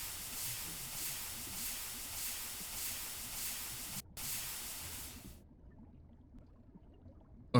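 A compressor machine in a Minecraft FTB Interactions modpack runs with a steady, loud hissing rush that pulses softly, cuts out briefly, then resumes before stopping into quiet.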